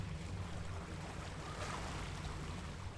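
Calm ocean water around a fishing boat in the Deadliest Catch video game at night, a soft steady wash of low waves and hull rumble, faint and even with no distinct events.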